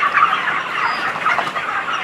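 Thirty-seven-day-old broiler chickens cluck and chatter together in a poultry farm shed during hot daytime, a close, busy, continuous murmur of many birds with no talk.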